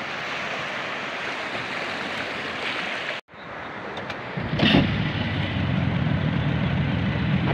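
Sea waves wash continuously near a beach where fish are netted close to shore, a steady broadband rush that briefly cuts out and then returns with a deeper, heavier surge.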